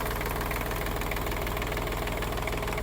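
An Iseki TG-333 Hi-speed Japanese mini tractor engine running close up, a loud, even, rapid diesel-like knocking chug with constant vibration and no talk.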